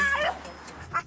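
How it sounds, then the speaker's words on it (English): A French bulldog gives short, high yelps and whimpers, close up, with a voice speaking around the cries. "fix this Frenchie's ear-splitting shrieks"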